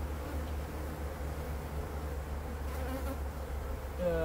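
Honeybees at a hive colony being readied for winter hum in a dense, continuous drone close by, with a few individual bees buzzing past near the end.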